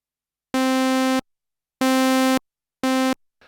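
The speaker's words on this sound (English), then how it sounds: "Let's go back to oscillator A on a sawtooth" Sawtooth wave from oscillator A on a Behringer Pro-1 or Prophet 6 synthesizer, three sustained buzzy notes of the same pitch with gaps between, bright and steady, no talk.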